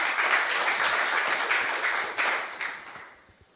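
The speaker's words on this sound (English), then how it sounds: "A big round of applause for him as well." A crowd claps and applauds at a panel debate, a dense steady patter of many hands that holds strong and then thins and fades out over the last second, with no talking over it.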